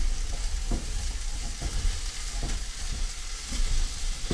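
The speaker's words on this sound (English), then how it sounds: "Stir the base so it doesn't stick." A shrimp frittata base sizzles in a frying pan while a utensil stirs and scrapes it in repeated, uneven strokes, close and moderately loud, with no talking.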